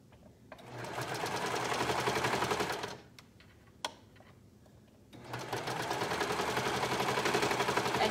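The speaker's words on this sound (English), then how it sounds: "I'm going to go ahead and sew with my serger to attach that top and bottom together" A serger stitches the seam joining a dress's top and bottom. It hums in a fast, steady mechanical whirr for two runs of about two and a half seconds each, split by a quiet gap with a single click.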